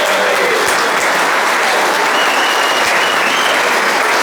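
Conference attendees give a big round of applause, a loud, dense, unbroken roar of many hands clapping at close range that holds steady throughout with a few sharper claps standing out.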